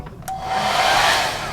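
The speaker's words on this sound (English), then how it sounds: "hair dryer" A hair dryer in a Carnival Sunrise balcony cruise cabin runs steadily and close, giving a loud, continuous airy whoosh with a faint whine. There is no talk over it.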